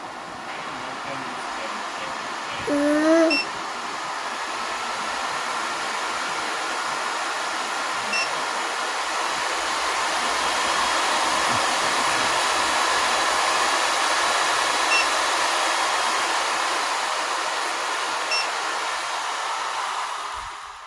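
An AIRSEE GD3 nail dust collector runs as a steady, fairly quiet fan whir across its three speeds, with a brief chirp of a control near the start and the hum swelling slightly later.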